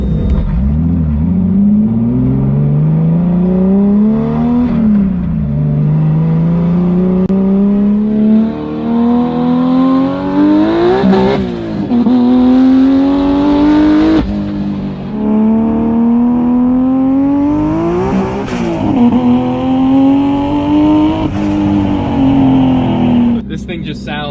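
A turbocharged BMW E46 M3 engine revs hard through the gears, its loud, raw note climbing in repeated rising sweeps with brief dips at each shift, while people talk over it throughout.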